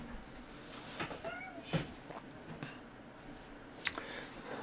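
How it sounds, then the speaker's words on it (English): A pet cat meows a couple of short times indoors, faint and close, with a few soft clicks and rustles around it and no one talking. "Sorry, my cat."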